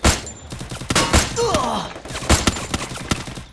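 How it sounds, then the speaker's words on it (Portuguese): Single-shot gun firing in the mobile game Free Fire, with several sharp gunshot cracks spaced irregularly amid other in-game effects and scattered thumps. "Vamos com a arma de um tiro aqui"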